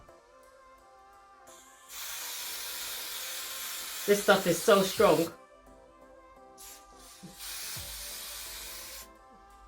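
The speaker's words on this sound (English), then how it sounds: "So you're going to spray it all around your wig." A spray bottle mists a wig closure in two long hissing bursts, one near the start and a second after a pause. Someone speaks briefly between the sprays.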